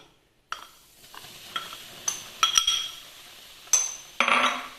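Chili powder stirred into cooling oil in a pan for lime pickle, a spoon scraping and clinking against the metal in irregular strokes with a faint sizzle; no talking.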